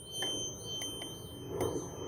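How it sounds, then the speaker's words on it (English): A home pool security alarm sounds with a repeating high warbling electronic tone, steady and fairly loud over a low background hum, with no talking. "oh, there goes the alarm"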